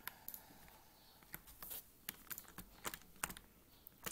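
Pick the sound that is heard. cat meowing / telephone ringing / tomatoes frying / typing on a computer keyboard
typing on a computer keyboard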